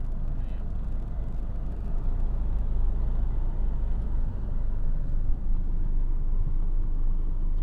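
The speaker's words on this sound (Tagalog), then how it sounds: "Dami rin talagang sasakyan ngayon" Busy street traffic outside a hotel near Luneta Rizal Park in Manila during a large religious anniversary gathering; a continuous low rumble of passing cars and larger vehicles, fairly close, with no clear speech.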